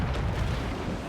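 Ship cannon fire in Assassin's Creed IV Black Flag: a heavy, rumbling boom of broadside guns filling the clip, loud and low, with shouting voices mixed in.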